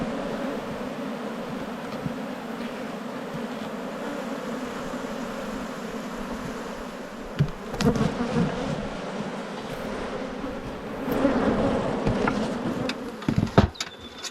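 Honey bees from a crowded hive frame in an Australian apiary buzz in a dense, steady drone after being shaken off, with a few sharp knocks and bumps of the frame near the end.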